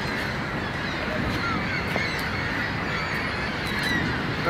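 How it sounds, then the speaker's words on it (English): A dense flock of birds in Chicago caws and squawks in a continuous noisy wash, loud and near, with scattered sharper calls standing out over the din. "Birds are freaking out."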